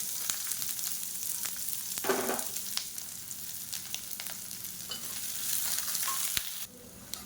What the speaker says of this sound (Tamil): இப்போ வெங்காயம் ஓரளவுக்கு வதங்கிடுச்சு